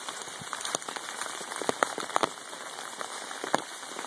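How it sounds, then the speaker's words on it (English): Steady rain pattering on surfaces during an October Sunday morning walk outdoors, a continuous close hiss broken by scattered louder drops and splashes, with no talking. "I had fun this morning walking in the rain"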